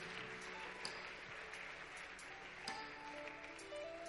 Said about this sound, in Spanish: Vamos a darles un aplauso a todos ellos.